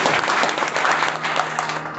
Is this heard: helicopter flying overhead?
no